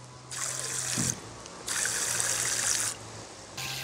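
A small electric pump on an AUTOPkio portable camping shower whirs while a water jet sprays in bursts, stopping and restarting three times, with the hiss of spray loud and close.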